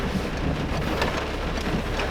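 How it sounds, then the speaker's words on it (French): Steady rain falls outdoors on a cold day on a volcano climb, a constant soft hiss with no distinct drops standing out and no voices. "là c'est la pluie là"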